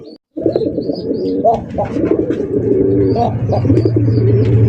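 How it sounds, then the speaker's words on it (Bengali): Several male pigeons cooing and calling in a farm loft, overlapping low, throaty warbles close by with sharp chirps above them, continuous and fairly loud. "দেখছেন কত সুন্দর ডাকাডাকি করে, এক একটা নরের এক এক রকমের ডাকির স্টাইল দেখেন"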